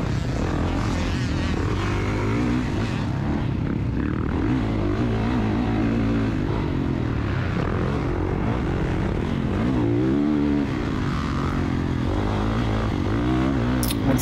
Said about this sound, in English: What a fun day riding dirt bikes.